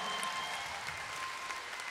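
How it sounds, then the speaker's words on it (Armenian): Concert audience in a theatre applauding a concert promoter's commendation, a steady dense wash of clapping held at even, moderate level, with no voices standing out. "Ծափերով շնորհավոր ենք։"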